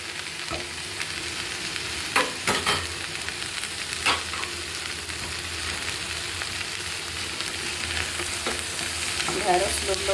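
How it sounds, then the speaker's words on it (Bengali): Green okra frying in a pan with onion and garlic, a steady low sizzle with occasional stirring scrapes and light knocks, fairly quiet and without talk. "পেঁয়াজ আর রসুন ভাজি করে নিচ্ছি"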